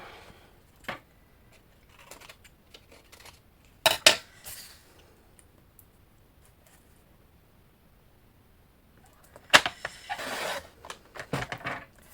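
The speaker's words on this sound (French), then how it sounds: "Ciseaux." Scissors cut paper while a lemonade-themed greeting card is made, giving a few crisp, close snips in two short bursts separated by long quiet pauses.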